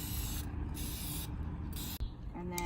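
Three bursts of hissing aerosol spray paint from a can onto Jeep Wrangler interior trim, close by, separated by brief pauses, followed by a faint click.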